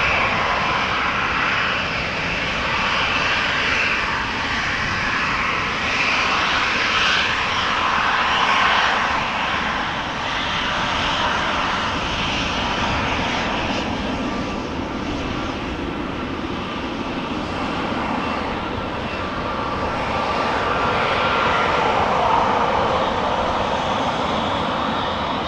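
An Austrian Airlines jet passes at Amsterdam Schiphol Airport, a loud, broad engine roar that swells and fades gently over the whole stretch with no pause, with no one speaking.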